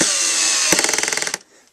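A Ryobi Tek4 cordless screwdriver runs with a steady whir, then its clutch slips in a rapid series of about a dozen sharp ratcheting clicks before the motor stops.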